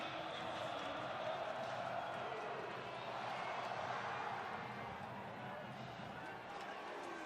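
Stadium crowd noise at a college football game between James Madison and Georgia Southern, a steady roar of cheering spectators heard faintly at a distance, with a commentator talking over it.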